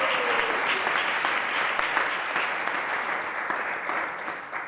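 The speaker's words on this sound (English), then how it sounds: "You can give a round of applause." Audience at a spirituality talk applauds in a steady, dense wash of clapping that holds at full strength for a few seconds.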